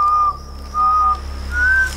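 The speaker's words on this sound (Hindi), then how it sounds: "तू सीटी क्या बजा रहा है बार-बार?" A person whistles three clear, sustained notes in a row, the last pitched slightly higher, loud and close with short pauses between them.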